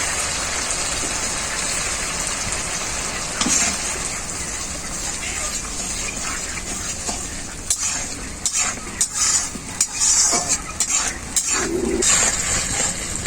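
A mustard, chili and turmeric paste fries and gets stirred in a pan, a steady sizzle under the scrape of a spoon, the clinks growing busier toward the end.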